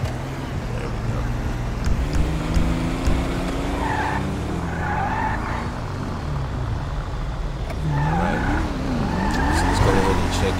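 A sedan in GTA 5 drives along with a steady engine hum and repeated tire squeals and skids, rising and bending in pitch over a constant road-noise bed, with voices faintly in the mix.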